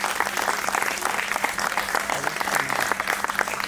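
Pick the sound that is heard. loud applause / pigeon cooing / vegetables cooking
loud applause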